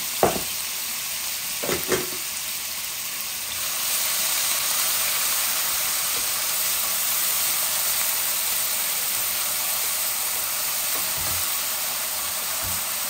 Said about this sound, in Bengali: এখন আমি পেঁয়াজটা দিয়ে দিলাম